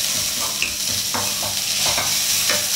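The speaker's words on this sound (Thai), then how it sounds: "เราจะคั่วชะโป๊ะให้หอมก่อนนะ" Preserved radish (chai po) stir-fried in a pan, a steady hiss of frying with several quick scrapes and clinks of a spatula, close and continuous, with no voices.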